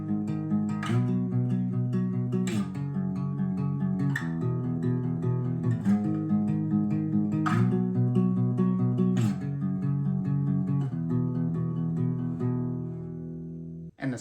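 Intro to a song played on a guitar alone, with a repeating pattern of picked notes and chords struck roughly every 1.7 seconds. It is steady and moderately loud, and the last chord rings out at the end.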